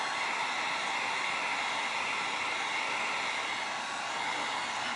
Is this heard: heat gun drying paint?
yes